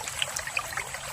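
Water trickles and burbles along a small village stream, a steady close bubbling with bright splashy detail and no voices.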